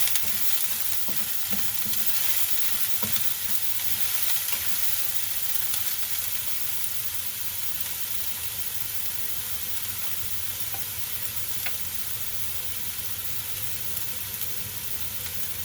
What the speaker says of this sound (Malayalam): പച്ചമുളക്, വെളുത്തുള്ളി, ഇഞ്ചി ഇത്ര ഇട്ട് നല്ലതായിട്ട് വഴറ്റുക.